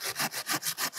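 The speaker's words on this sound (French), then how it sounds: "je vais donner un petit coup de scie juste au-dessus du départ pour voir l'état du tronc" Handsaw cutting into a tree trunk just above an old stump, six rhythmic rasping back-and-forth strokes at a steady pace, close and fairly loud, with no voices.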